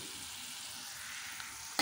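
Long beans sizzle and fry in a pan as they are stirred, a steady close hiss with soft scraping throughout, ending in a brief louder clatter.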